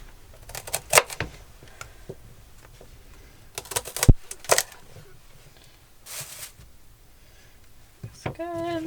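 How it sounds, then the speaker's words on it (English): A knife cuts through large celery stalks on a cutting board while making chicken noodle soup, giving scattered sharp crunchy chops and board knocks with quiet gaps between them, recorded up close. "I grabbed out 3 large stalks of the celery. I'm going to cut their bases off."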